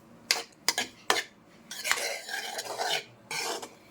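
A metal utensil stirs gongura rice in a pan, with a few sharp scraping knocks at first, then longer rough scraping strokes against the pan, close and moderately loud, and no one speaking.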